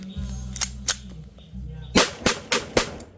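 Several sharp cracks from a Kimber 1911-style toy pressure gun with a 5-inch barrel, a couple of isolated shots followed by four rapid, loud pops in quick succession over a low background hum.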